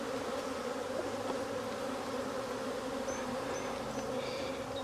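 Honeybees in an open hive make a dense, steady drone that stays loud and unbroken throughout, close up, with no one speaking.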